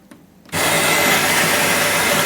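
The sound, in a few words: Melitta Latticia OT coffee machine grinding beans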